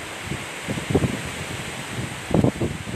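Gusty typhoon wind rushes through a tall sugarcane field in Nasugbu, with bursts of leaf and stalk rustle swelling and fading over a steady airy background.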